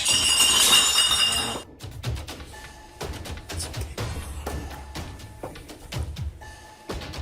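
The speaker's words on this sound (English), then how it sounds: "Terrifying clinking and clanking bursts through the darkness" Glassy clinking and clanking in a dark house at night, a bright burst of rattling chimes at the start followed by scattered sharp clinks and knocks over a quiet, hollow background.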